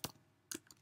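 Two quick clusters of computer keyboard keystrokes as a console command is typed, soft and close with a short gap between them.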